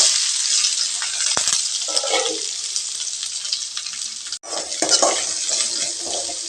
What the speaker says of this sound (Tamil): இப்போ தேங்காய் நல்லா பொன்னிறமாக ஆகிற வரைக்கும் வறுபட்டுட்டுங்க